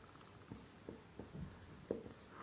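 A pen writing a physics definition on paper in a class 10 electricity lesson: faint, close scratching strokes in short irregular bursts, with no talk.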